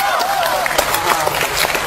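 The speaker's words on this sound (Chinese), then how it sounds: "掌声不是太热烈" A crowd at a Liaoning Spring Festival Gala comedy sketch gives a modest, scattered round of applause, with a voice audible at the start.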